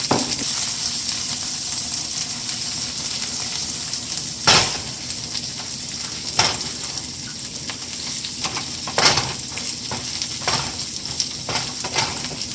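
Goat meat and okra (bhindi) masala stirred in a frying pan under a constant loud sizzle, with occasional scraping and clacking strokes of the spoon; no voices.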